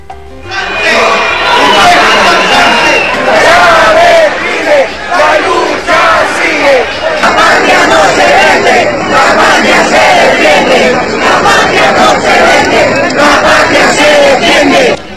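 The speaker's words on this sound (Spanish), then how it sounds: "delegaciones de organizaciones sociales de Cuba y Venezuela interrumpen con arengas al discurso del secretario general de las Organizaciones de Estados Americanos" Delegations from Cuban and Venezuelan social organizations chant loud slogans in unison, drowning out the speech of the OAS secretary general. The crowd noise stays dense and sustained throughout, with rhythmic bursts of shouting.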